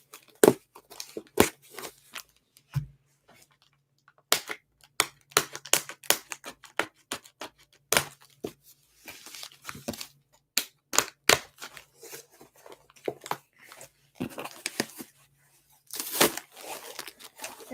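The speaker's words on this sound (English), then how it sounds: "I don't think I have scissors, so I'm just poking it with a pen." Sharp crinkling tears and pokes as a pen punctures the plastic foil wrapper of a Pokemon card pack, irregular bursts of crackle and rip close up with short pauses between, no talking.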